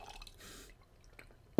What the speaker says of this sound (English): Let me pour a little bit more in here.